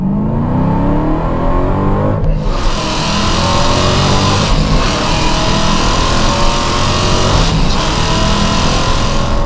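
A Hennessey HPE850 Dodge Hellcat launches from a light bog at about three thousand rpm and pulls hard under full throttle, its loud, close engine note rising steadily through the gears with brief dips at each shift.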